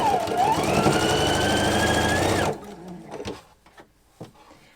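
A sewing machine hums steadily for a couple of seconds while stitching a quilt seam toward a star point, then cuts off, leaving quiet handling noises.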